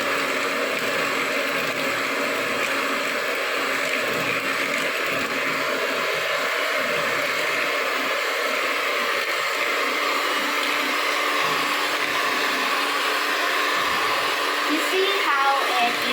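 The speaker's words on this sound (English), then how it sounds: "you need your electric mixer. So then you mix it at once." An electric mixer beats vanilla cake batter in a bowl, a steady, close, high-pitched motor whir that runs without a break, with brief faint talk near the end.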